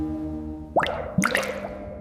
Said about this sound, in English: Different liquids give different effects when a drop falls.